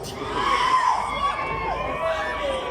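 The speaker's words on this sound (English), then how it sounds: "I want to hear lots of shouting and roaring." A festival crowd at the Mullingar Fleadh Cheoil shouts and cheers in a steady, loud roar, with a voice calling out over the noise.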